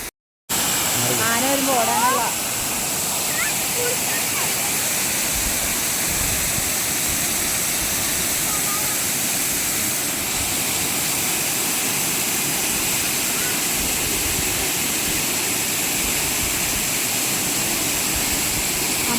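Steady, loud rushing water fills the whole stretch, a constant broadband roar from a forest waterfall close by, with faint voices at the very start.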